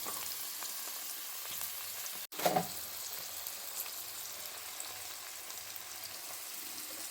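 Paneer roasting in a little oil in a pan, a soft continuous sizzle with a brief break and a small stirring clatter partway through, otherwise steady and moderately quiet.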